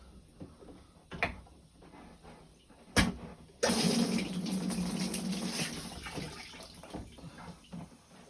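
Water rushes through newly fitted pipes of a Mira tank-fed shower being flushed out, first as a couple of sharp knocks and then a loud, steady gush that holds for several seconds before easing off.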